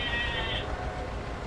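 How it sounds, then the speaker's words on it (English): A goat bleats in a farming video game, a single nasal bleat heard over a steady bed of game ambience and background noise. "apparently there's a goat here somewhere"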